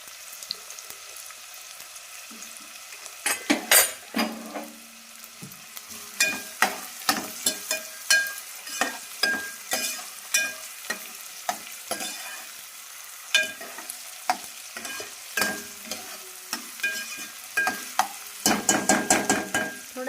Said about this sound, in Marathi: आता आपण टाकूया थोडा कांदा.